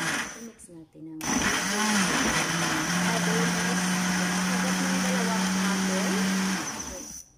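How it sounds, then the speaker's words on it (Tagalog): A blender whirs loudly and steadily as it mixes vegetables and fruit into juice, starting abruptly after a moment of quiet and running at an even pitch until it winds down, with a voice talking over it. "So i-mix na natin ang ating vegetable fruits juice."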